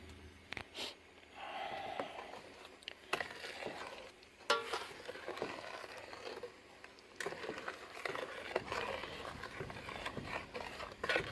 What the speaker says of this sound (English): Get it stirred and dissolved.